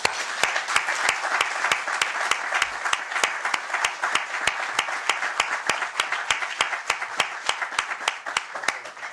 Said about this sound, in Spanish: y con un fuerte aplauso